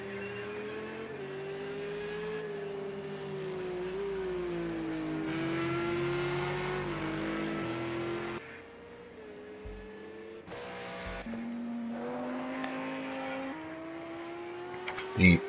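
Racing video game cars at Brno roar continuously as engines whine and shift pitch through upshifts and braking. Another car briefly passes alongside, then the engine note climbs again.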